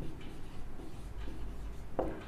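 Pen or marker scratching on a board while solving a maths problem in class, a steady soft rubbing texture with a few sharper strokes, close and continuous with no talk.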